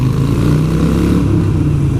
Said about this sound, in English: This tunnel is like one of the best for rev bombs right here.